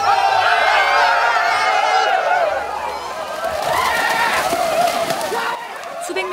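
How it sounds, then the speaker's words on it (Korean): Hundreds of swimmers in swimsuits run into icy seawater on New Year's Day, raising a loud, continuous mass of shouting and whooping voices that builds and fades in waves, close and crowded. "수백 명의 사람들이 수영복만 입은 채 힘찬 함성과 함께 바다로 뛰어듭니다"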